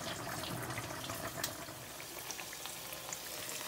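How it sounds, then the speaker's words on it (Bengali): Sweet pumpkin sizzles and fries in a pan, a soft continuous crackle with occasional small pops, steady and fairly quiet throughout. "এখানে দেখতেছি ও মিষ্টি কুমড়া ভাজি হচ্ছে, মিষ্টি কুমড়া ভাজি হচ্ছে।"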